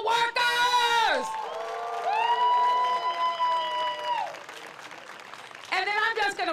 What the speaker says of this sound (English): let's just give another big round of applause for all of our essential workers